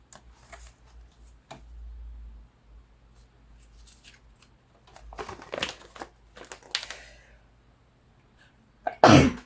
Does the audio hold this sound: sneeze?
yes